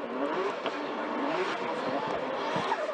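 Drift cars launching side by side at the start of a Formula Drift Japan battle run, engines revving hard and accelerating in a dense, continuous roar.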